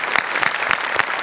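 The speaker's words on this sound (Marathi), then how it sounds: "एकदा आपल्या जुजबीसाठी जोरदार टाळ्या" Studio audience on a Marathi comedy show bursts into a short round of strong applause, dense rhythmic clapping close and loud, with no voices over it.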